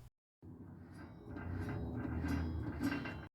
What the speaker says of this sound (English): The motor will turn by hand, but it's rough and makes noise.